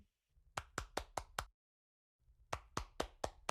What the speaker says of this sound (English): Get more clapping.